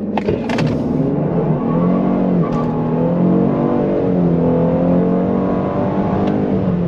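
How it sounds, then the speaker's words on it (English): A tuned 2022 Lincoln Aviator's engine revs hard while held on the brakes for a power brake, with a loud, steady, droning exhaust tone that rises and falls slightly throughout and no talking. "Give it a little bit of a power brake or power boost."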